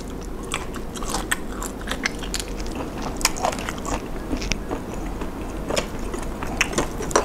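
Close, steady crunching and biting while eating Thai shrimp papaya salad with raw shrimp and seafood, rapid crisp bites and chewing with no talk.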